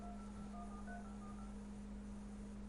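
Telephone dialing tones while calling back, a quick run of short DTMF beeps over a steady low hum and line noise, faint and alone with no voices.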